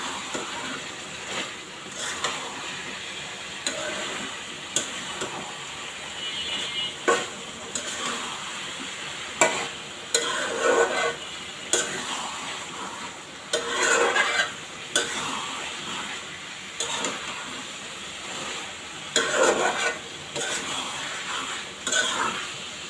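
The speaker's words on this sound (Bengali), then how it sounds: "এবার সুন্দর করে মিশিয়ে নেব পুরোটা।" A spoon scrapes and clatters steadily against a frying pan as ingredients are stirred and mixed over a faint ongoing sizzle, in repeated close strokes.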